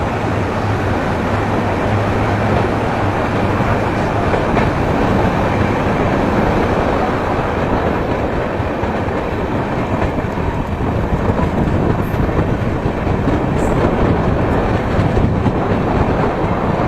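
Ajmer Shatabdi Express running on the tracks between Kishangarh and Ajmer, a steady loud rumble of wheels and carriages with faint rhythmic rail clatter throughout, no voices.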